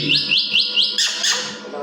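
A pet myna bird in a cage gives a series of bright, rising whistled calls, close and loud, repeated about four times and then a longer sweeping note.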